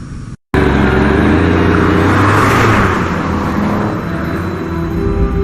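A car engine drives steadily in the James Bond 007: Blood Stone video game, a loud, continuous motor roar that begins after a brief gap of silence and eases slightly toward the end.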